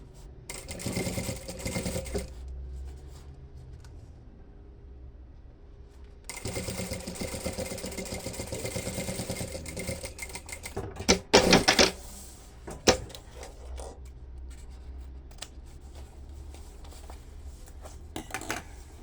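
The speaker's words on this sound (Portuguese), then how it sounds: "Aí eu vou costurar bem pela pontinha." A sewing machine stitches along the edge of a fabric bag with a strap, running in quick buzzing bursts separated by pauses, with a few sharp clicks and knocks near the end; moderately close and fairly quiet.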